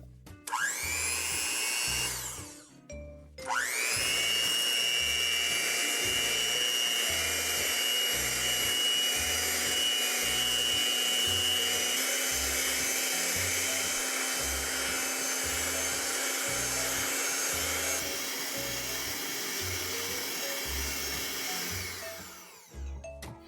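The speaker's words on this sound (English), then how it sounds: "we're just going to take our mixer and whisk this until it kind of starts to thicken up" A loud electric hand mixer whips chocolate mousse, whirring steadily for about twenty seconds after a brief start-stop, its motor drone close and unbroken.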